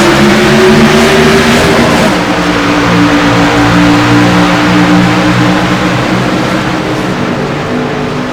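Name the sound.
race cars accelerating at the green flag restart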